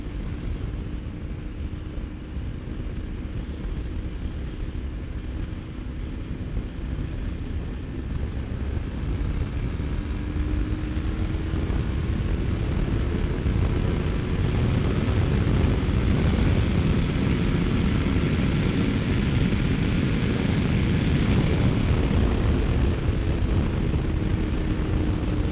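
A Kawasaki Ninja motorcycle accelerates toward 150 km/h, its engine drone rising steadily in pitch beneath heavy, continuous wind rush that grows louder over time.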